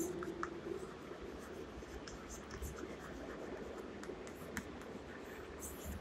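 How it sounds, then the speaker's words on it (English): Pen writing short keywords on paper for a physics lesson, a faint continuous scratchy stroke sound close up with no talk over it. "I am writing only in short keyword"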